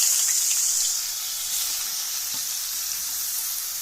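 Peanuts slowly frying in a pan of oil give a steady, close sizzle and hiss, louder at first and then settling to an even level, with a few faint clinks and no voices.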